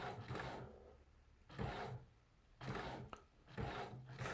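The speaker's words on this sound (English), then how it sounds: "It is telling me it's printing." A Canon MAXIFY GX6050 inkjet printer prints a photo, its print head sweeping back and forth in four regular rasping passes about a second apart, close and moderately quiet.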